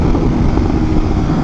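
A BMW M1000RR motorcycle with a full titanium SC Projects exhaust roars loudly and continuously while riding, a heavy low-pitched engine drone mixed with wind buffeting.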